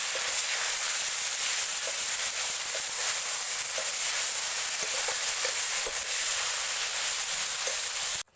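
Tomatoes hit a hot pan and sizzle loudly and close up, a dense, unbroken hiss of frying with faint stirring ticks, running steadily until it stops abruptly.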